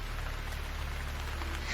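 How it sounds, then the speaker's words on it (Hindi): Rain falling in a steady, even patter with a low hum underneath, continuous and moderately close throughout the short stretch. "ठीक तभी बारिश होने लगती है"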